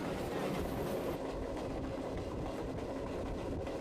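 A passenger train rolls along its tracks in Alaska, a steady close rumble with wheel clatter and rattle heard from on board, continuous and fairly loud, no voices.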